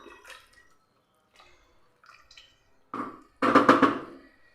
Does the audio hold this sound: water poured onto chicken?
yes